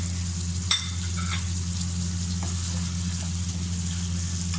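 Karahi with tomatoes, ginger and green chillies sizzles steadily in the pan while being stirred, a constant frying hiss with a low hum underneath and a brief clatter near the start; no one speaks.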